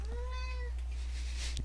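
A cat meows close to the microphone, one clear rising-falling call followed by fainter scuffling noises, with no talk over it.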